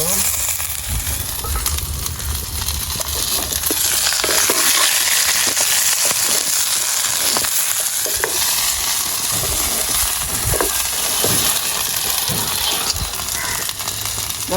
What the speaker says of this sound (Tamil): வெங்காயம் பச்சை மிளகாய் எல்லாம் பதங்குது.